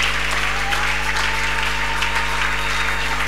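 A church congregation applauds the Lord during a Sunday worship service, steady dense clapping filling the room throughout with a faint murmur of voices underneath.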